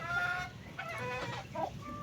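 A chicken clucks repeatedly in short, throaty bursts, close by, with other fowl sounds faintly in the background.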